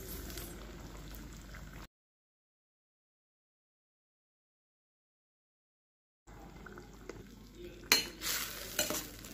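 Fried cauliflower stirred into boiling Gobi Manchurian sauce over high flame: soft bubbling and scraping, cut by a silent gap, then clattering spoon strokes and sizzle toward the end, no voices.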